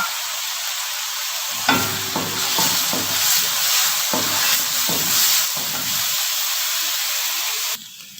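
Onion and garlic paste frying for a fish curry gives a loud, steady sizzle and hiss, broken by the scrape and clatter of a utensil stirring the pan several times; close, with no talking.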